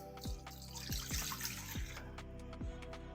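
Water is poured into a bowl for poolish dough, a close splashing and gurgling stream with several bubbling glugs, alone with no talking.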